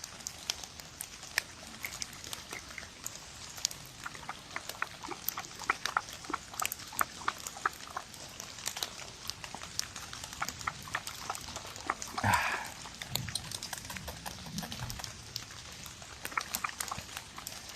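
A Mastador puppy, a mastiff and Labrador cross, makes intermittent dog sounds outdoors in the rain, including one short, louder vocal burst among patters and rustling.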